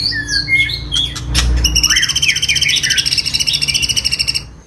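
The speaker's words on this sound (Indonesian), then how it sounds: "saat dia mengeluarkan suara pelatuk ini" Bright, rapid song of a Sampit woodpecker, with high chirps and trilled phrases, close and loud, continuing steadily with a dense repeating pattern.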